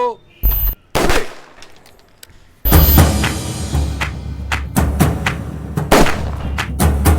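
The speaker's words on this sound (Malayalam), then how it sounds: "ശരിക്കും തോക്കിൽ നിന്ന് വെടി പൊട്ടുകയും" A pistol firing blank rounds: a few sharp, loud shots ring out, followed by a burst of rapid repeated shots echoing over a noisy background.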